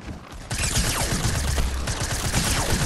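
A suppressed SMG fires in a video game, a steady, dense stream of rapid muffled shots that runs without pause through the whole moment, loud and close.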